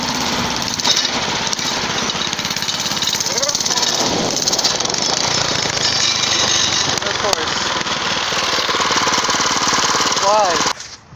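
A small engine on a homemade scrap go-kart with a very loose chain runs loud and close, a rough, chattering drone that holds steady for the whole stretch with only slight rises in pitch.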